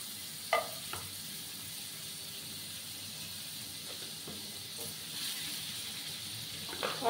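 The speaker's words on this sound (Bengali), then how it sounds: "এবার দেখো, প্যানের মধ্যে আমি বাটার দিয়ে দিচ্ছি।" Butter sizzles quietly in a pan on the gas stove, a soft steady hiss with a few faint clicks and crackles scattered through it.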